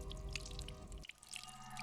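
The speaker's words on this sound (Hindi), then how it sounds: "बाथरूम में पानी भरने की आवाज आ रही है।" Water runs into a bathroom from a tap, heard faintly and indoors, with light dripping and splashing that drops to a softer trickle partway through.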